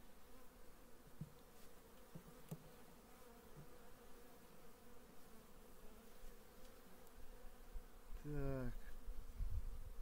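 Carniolan honeybees buzz in an opened hive during an early-spring colony inspection, a faint, continuous hum close by, with someone speaking a single word and some handling noise near the end.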